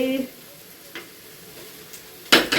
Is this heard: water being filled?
no